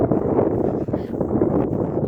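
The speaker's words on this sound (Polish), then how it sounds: "Zimny wiatr, mróz jest." Cold, frosty wind gusting across a field near rapeseed where deer roam, buffeting the microphone with a low, rough rumble throughout.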